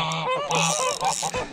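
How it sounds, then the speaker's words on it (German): Geese honk loudly and close by at a trout fishing pond, several quick nasal calls overlapping in a brief noisy burst. "Danke, Gänse."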